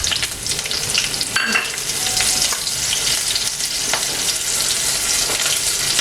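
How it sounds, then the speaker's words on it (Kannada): Curry leaves and red chillies crackle and sizzle loudly in hot oil, a dense, steady frying hiss with brief pops, heard up close and alone. "ಎಣ್ಣೆ ಕಾದ ನಂತರ ನಾವು ಕರಿಬೇವಿನ ಸೊಪ್ಪನ್ನ ಹಾಕಬೇಕು. ಮತ್ತು ಕೆಂಪು ಮೆಣಸಿನ್ಕಾಯಿನ ಹಾಕಬೇಕು."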